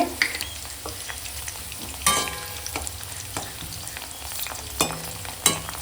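Whole cumin seeds sizzle in hot oil, next to lightly fried cauliflower and a bay leaf, with a soft steady fry broken by several sharp utensil clicks and scrapes of stirring.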